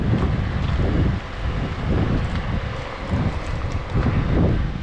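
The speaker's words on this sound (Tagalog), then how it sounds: "ang lakas ng hangin" Strong wind roars against the microphone outdoors near water and rocky ground, a loud continuous buffeting with surging gusts throughout, no voices.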